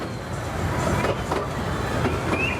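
The Legoland Express, a small theme park train ride at Legoland Windsor, rolls along with a steady low rumble and faint wheel clatter, with a brief high squeal near the end.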